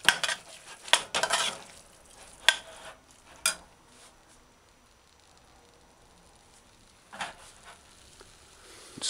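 Ground beef fries in a pan over medium-low heat while being stirred, with sharp scraping clatters and spoon knocks over a faint low sizzle, then a quieter stretch before more stirring noises.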